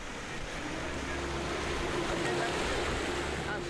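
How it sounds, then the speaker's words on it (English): An Open 60 racing yacht sails solo across North Atlantic waves, with a steady broadband wash of sea and wind rushing continuously and loudly close to the microphone. "Dee Caffari set sail from Plymouth on her new Open 60 yacht Aviva"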